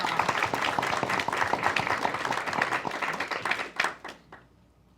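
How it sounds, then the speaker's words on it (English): A school board meeting audience claps for a new hire, a brisk burst of moderate applause lasting about four seconds before fading out to near silence. "So we could just give a round of applause."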